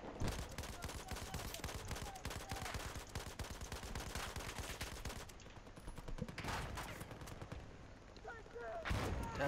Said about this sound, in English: That's mortars, that's not good.